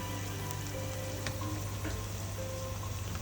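Kashmiri chili powder and garam masala frying with onions in a pan, a quiet, continuous low sizzle with a steady hum underneath and a few faint scrapes.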